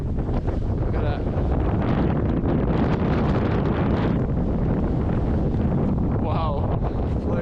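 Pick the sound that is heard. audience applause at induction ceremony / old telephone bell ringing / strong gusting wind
strong gusting wind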